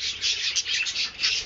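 Dense chorus of many small birds chirping and twittering continuously, close and fairly loud, in a crowded group of birds.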